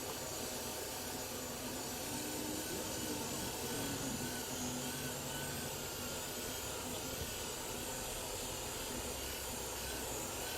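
A polishing machine buffs a car headlight at its lowest speed, a continuous dense whirring drone with a grinding edge, close and steady for the whole stretch without pauses.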